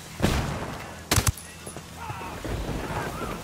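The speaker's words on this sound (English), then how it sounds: "Lobbing a flashbang." A flashbang grenade goes off in a video game, a sharp burst followed by a second, louder double crack about a second later, with faint game ambience and low rumbling afterward.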